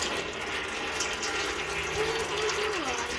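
Gearbox oil drains from a 2001 Opel Astra G 1.6 8V in a continuous, steady pouring stream, close and moderately loud, with a faint shifting tone partway through.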